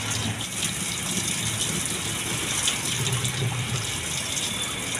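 Water gushes hard from a faucet fed by a booster pump, a dense steady hiss and splash that stays loud and even for five seconds with no voices.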